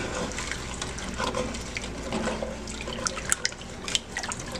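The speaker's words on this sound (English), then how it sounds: "I'm going to add a cup of water, of coconut cream, and a cup of water, and I'm deglazing the pan" Water and coconut cream poured into a hot pan to deglaze it for a chickpea stew, giving a steady close wash of liquid noise with small sizzling splashes and drips throughout.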